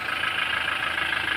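A modified diesel engine, a 1GD fitted after removal of the balancer shaft gear, idles steadily with a continuous close, loud droning hum and a faint rapid rhythmic knock underneath.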